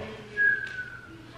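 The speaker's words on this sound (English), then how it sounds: "I could whistle a little" A single short whistled note rises briefly above low background noise, with a person whistling a bit of a song at close range.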